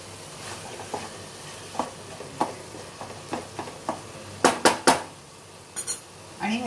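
Carrot halwa is stirred in a pan with soft rhythmic scrapes over a low sizzle, closing with a few louder knocks of a spoon against the pan near the end, close by with no talking.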